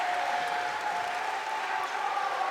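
Crowd in a high school gym at a girls volleyball match applauding and cheering steadily, a dense wash of clapping with no break.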